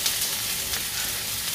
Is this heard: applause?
no